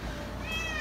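A house cat meows insistently, a rising drawn-out cry close to the microphone in the second half over a steady background hum.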